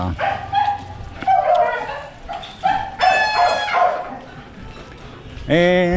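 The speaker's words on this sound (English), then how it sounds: "obviously you can hear it, and you have dogs here too." Several dogs bark and yip in short bursts nearby in a residential community in Barangay Tabun, Mabalacat City, Philippines, with some whimpering, overlapping a person talking.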